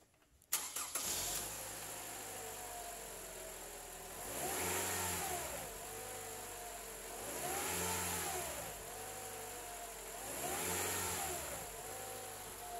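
A front-damaged 2016 Toyota Camry LE engine cranks and catches with a sharp start, then idles smoothly between three long, even revs that swell and fall back, heard close and alone.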